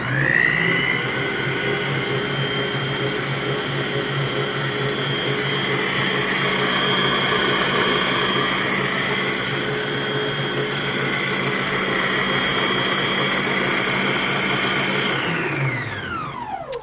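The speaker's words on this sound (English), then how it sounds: "I do have a stand mixer. Let me just go ahead and turn that on, crank it up all the way to max." A stand mixer runs at maximum speed, giving a loud, steady whirring motor drone with a high whine that holds for many seconds, then winds down at the end as it is switched off; no talk.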